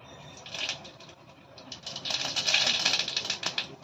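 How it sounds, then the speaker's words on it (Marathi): Mustard seeds pop and crackle in hot oil in a home kitchen, with a rapid, dense ticking crackle that swells louder midway and keeps going close by, with no talking. "आता आपण सगळ्यात पहिले मोहरी तळायला घालूया"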